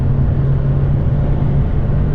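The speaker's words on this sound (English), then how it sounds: "This is full throttle, by the way." A 2019 Mercedes C-Class C180 W206 pulls at full throttle in sport mode on a highway, heard from inside as a loud, steady low engine drone and road rumble that holds evenly throughout.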